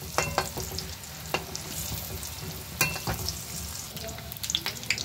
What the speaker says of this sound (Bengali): এবার এরকম করে ভেজে নেব